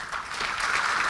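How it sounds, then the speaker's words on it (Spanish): Audience at a SENATI steel-selection presentation gives a brief, dense round of applause, steady and fairly loud with no speech over it. "Vamos a despedirlo nuevamente con un fuerte aplauso"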